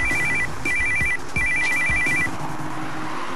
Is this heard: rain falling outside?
no